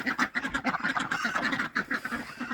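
Ducks quack repeatedly at a duck coop, a dense, steady chorus of overlapping calls from birds gathered in a back corner, fairly close and continuous.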